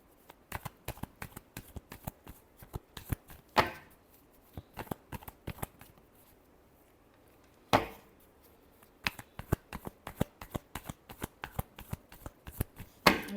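Tarot cards being shuffled by hand in repeated quick riffling bursts, crisp papery slaps and flutters in a steady rhythm with short pauses between rounds, close and fairly quiet.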